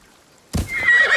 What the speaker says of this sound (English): This horse has seen better days.